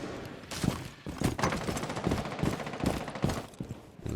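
Dense, continuous automatic gunfire from the Rainbow Six Siege video game, rapid bursts blending into steady fusillades at moderate loudness, with no talk over them.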